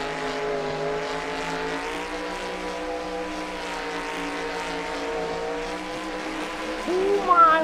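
Ford Mustang drift car at a drift event, its engine holding a steady loud droning roar with sustained harmonic tone, rising briefly at the very end.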